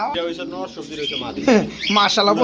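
A pair of racing pigeons coo and warble up close, soft throaty calls mixed with people talking nearby.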